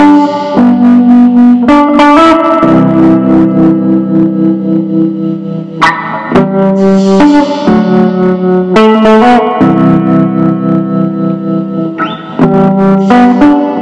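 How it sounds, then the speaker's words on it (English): A 1960s Danelectro Longhorn electric guitar played with tremolo and reverb through 60s gear with no pedals, loud sustained chords and notes with pulsing, shimmering decay, alone without talk. "we're going to turn the tremolo on and the reverb at the same time."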